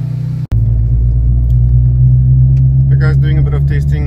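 Honda Civic on the road during a test drive, with a steady loud low engine and road rumble throughout after a brief dropout at the start, and some faint talk near the end.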